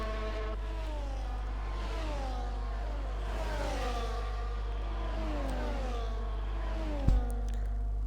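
A race car on an out lap on soft tyres, its engine note rising and falling through repeated upshifts and revving at a moderate distance in Austria, steady and continuous with a brief knock near the end.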